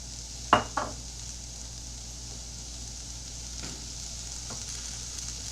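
Onions frying in a pan on a burner that is a little too hot give a steady, even sizzle, with two sharp utensil knocks near the start and a few faint clicks later.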